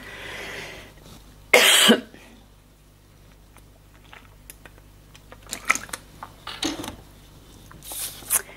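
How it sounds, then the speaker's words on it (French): A person takes a sip of a drink and clears a scratchy throat with one loud, abrupt burst, followed by quieter swallowing and small mouth noises and clicks nearby. "il faut que je boive un petit coup. J'ai la gorge qui me gratte"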